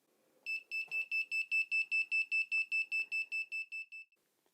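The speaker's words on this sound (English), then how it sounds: "if he enters the room, then he's going to set off the alarm" An Arduino-built room alarm beeps in a fast, loud, evenly spaced run of about fifteen shrill electronic pulses, then stops; no talking.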